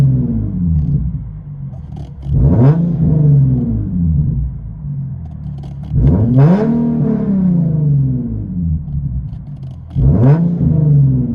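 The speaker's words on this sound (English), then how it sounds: "370Z, Tomy exhaust system" A 2010 Nissan 370Z sports car with a Tomy titanium exhaust system, heard from inside the cabin, revs hard three times, each loud rising roar settling back to a deep rumbling idle between blips.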